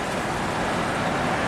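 Steady road rumble and broadband wind and tyre noise from inside an Audi turbo car cruising at about 35 mph, constant and even throughout with no talk.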